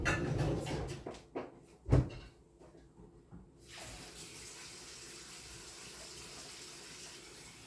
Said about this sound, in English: And then I will add some water.